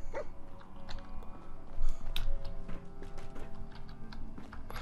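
Dogmeat, the dog companion in the video game Fallout 4, gives a few short barks and yips amid game background noise and clicking, fairly close and moderately loud.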